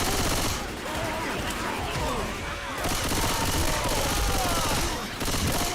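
Sustained automatic gunfire aimed at Tanks in Left 4 Dead 2, a continuous loud rattle of shots over a rainy game soundscape, with a voice speaking briefly underneath.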